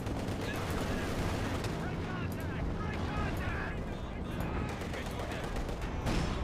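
A B4 howitzer firing in a Company of Heroes 2 multiplayer battle, heavy booms within a dense, continuous roar of gunfire and explosions from the game.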